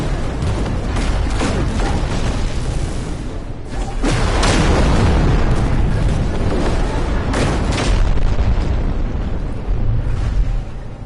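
A spaceship crashes into another ship in No Man's Sky, a loud, sustained rumbling boom of impacts and explosions that surges around the middle and keeps roaring throughout.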